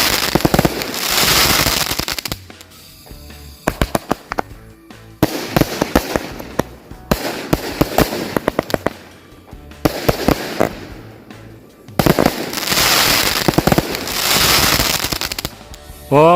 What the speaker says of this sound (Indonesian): Itu dia hasilnya dari mercon samurai.